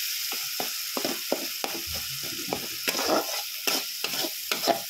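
A Bengali fish curry, lata macher kalia, is stirred in a frying pan, giving a soft sizzle under a rhythmic run of scraping, clacking spatula strokes, close and fairly loud.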